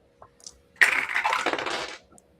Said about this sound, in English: I did that all individually because I just love the sound of my dice tower